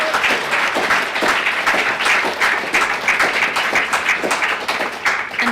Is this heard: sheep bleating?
no